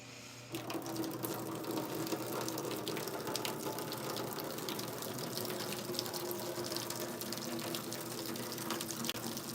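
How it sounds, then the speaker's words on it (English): Water slowly poured out from under a plate while making a plant-based noodle dish from a box of Kraft mac and cheese, a soft steady trickle and splash continuing throughout, faint and unbroken. "we will just slowly pour the water out"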